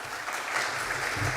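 A conference audience at a GNOME developer event applauds between talks, a brief burst of many hands clapping at a moderate level, steady throughout, with faint low murmurs underneath.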